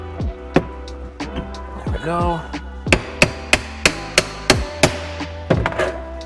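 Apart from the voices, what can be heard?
hammer driving wheels in with a 1/2 inch extension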